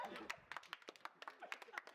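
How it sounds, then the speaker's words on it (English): A few scattered, uneven claps from a small group, faint, mixed with murmuring voices and soft laughter. "The awkward clapping?"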